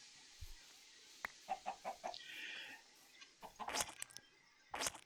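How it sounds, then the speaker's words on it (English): Chickens in a pen in the survival game Forever Stranded give a run of quick soft clucks, then a few sharper bursts over a quiet background. "Let me just jump in my chicken pen here,"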